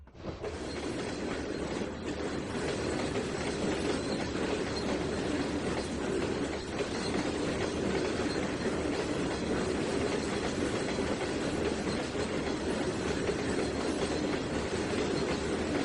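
Train wheels clack and rumble along rails in the Trainz 2019 simulator, a dense, steady rolling noise that holds at the same loudness from start to finish with no voices over it.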